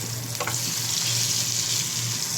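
Pieces of a large octopus frying in a hot pan, a steady loud sizzle with a brief clatter near the start and a low hum running underneath.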